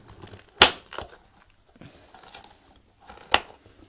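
A red pepper is cut in half with a knife, giving two sharp crunchy snaps close up, with fainter crackly handling and rustling between them.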